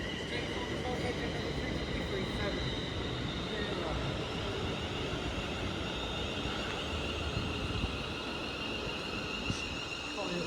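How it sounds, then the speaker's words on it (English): A four-coach London Northwestern Railway service to Stafford pulls into platform 1 at Stoke-on-Trent station, a steady broadband rumble and hiss that holds even throughout at moderate distance. "The train now arriving into platform 1 is the 1458 London North Western Railway service to Stafford"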